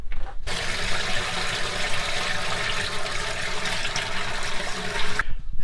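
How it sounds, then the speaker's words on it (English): A bucket of water mixed with black tank treatment dumped into an RV toilet, a loud, continuous close-up gush and splash lasting several seconds, then cutting off abruptly. "just go ahead, dump it in your toilet."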